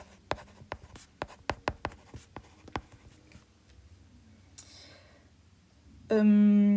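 Chalk or marker writing a word on a board in a lecture room, a quick series of sharp taps and scratches over several seconds, ending as a loud sustained tone starts.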